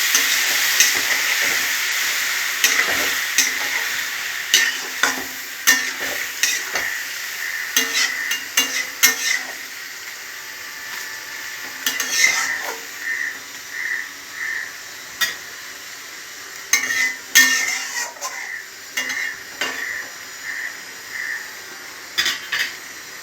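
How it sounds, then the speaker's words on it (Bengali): Gobindobhog rice stirred in a pan with soybean and potol, a spoon scraping and clinking against the metal in irregular bursts over a steady soft sizzle, close by with no talk. "দিয়ে আমি একটু নাড়াচাড়া করে নেব।"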